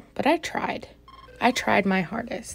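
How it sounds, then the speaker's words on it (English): Someone talks nearby while a brief electronic telephone ring chirps once in a short pause between her words. "Sorry for the phone ringing."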